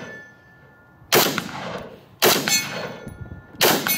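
Three loud rifle shots ring out at an outdoor range, evenly spaced about a second apart, each a sharp crack with a ringing tail into near silence.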